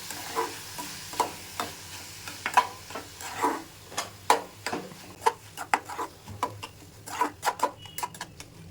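Tomatoes fry in oil in a pan for egg curry and are stirred repeatedly, producing a steady run of sharp spatula clicks and scrapes over a faint sizzle, close and moderately loud.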